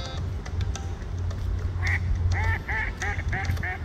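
Several ducks quack in short repeated bursts over a steady low hum of background noise, the calls growing more frequent toward the end.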